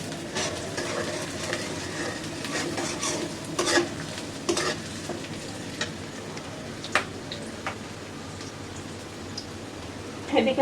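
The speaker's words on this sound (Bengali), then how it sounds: "ডাল বাগারের জন্যে আমি হলো পেঁয়াজ আর রসুন ভেজে নেব" Onion and garlic frying in oil in a pan for dal tempering, a steady soft sizzle with intermittent scraping stirs and utensil knocks, close by, with some faint voice in the background.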